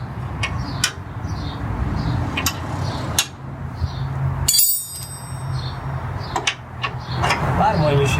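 A wrench working a front tow hook bolt on a Jeep ZJ produces sharp metallic clicks and clinks at irregular intervals, close by, with someone talking between them.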